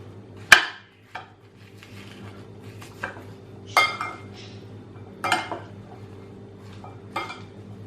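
A chickpea salad being mixed in a bowl, with a utensil knocking and clinking against the dish in several sharp, irregular strikes over a soft background of scraping, close and fairly loud, with no talking.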